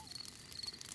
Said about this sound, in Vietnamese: Đó là tiếng kêu của những chú dế đó con.